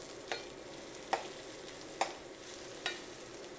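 Chopped onion sofrito cooking in a pan, a soft steady sizzle broken by four sharp scrapes of a stirring utensil, with no talking.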